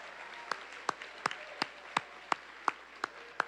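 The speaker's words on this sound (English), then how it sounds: "Let's give Frank Frazier a big hand of applause" Sparse, evenly spaced claps ring out at a Quapaw Nation general council meeting, about ten single sharp hand claps in a steady rhythm, fairly faint and heard without talk.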